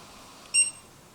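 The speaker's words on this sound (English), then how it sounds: "It's been beeping for around a half a minute." A sous vide cooker's timer gives a short, high electronic beep, fairly faint and alone in a quiet kitchen.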